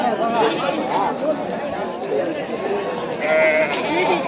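Sheep and rams bleating at a busy Sunday sheep market in Pileru, several animals calling at close range over a constant crowd chatter, with voices talking nearby.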